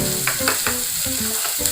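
Food sizzles steadily in a hot pan, with a few scraping stir sounds and faint musical tones running underneath.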